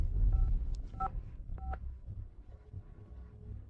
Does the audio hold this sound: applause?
no